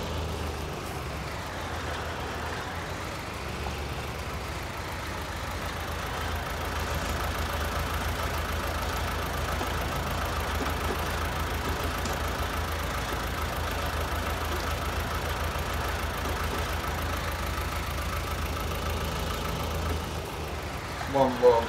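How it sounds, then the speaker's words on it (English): A tractor engine in the video game Farming Simulator 19 drones steadily at a constant mid-pitched idle-like hum throughout, with a brief knock or bump right at the end. "we've gone a bit too far again with the tractor"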